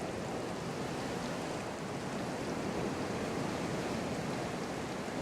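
Liquid draining off scallion and mashed potato pancakes in an outdoor kitchen, a steady broadband rushing wash that holds at an even level for about five seconds with no talk.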